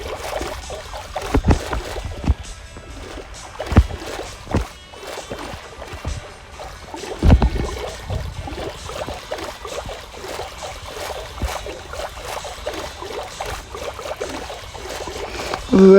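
Continuous splashing and rushing water as a boat moves along in Minecraft, with irregular sloshes and wave slaps over a steady wash.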